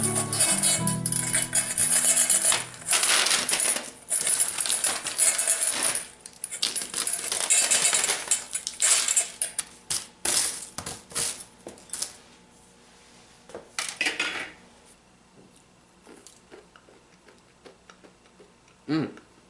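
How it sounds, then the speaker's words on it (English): Honey-roasted cashews scraped and dug off foil: repeated close scraping, clicks and rustles in irregular bursts that thin out toward the end, with no talking. "So really try and dig them out and put them back on the"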